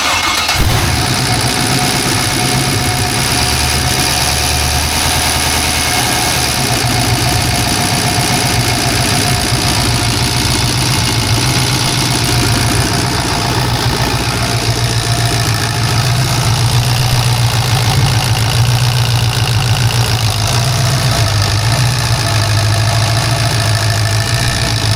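A fire-damaged 6-litre LS V8 cranks, starts and settles into a loud, steady, rough idle that rumbles on without a break.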